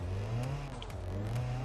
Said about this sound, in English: The engine is too powerful for the actual car.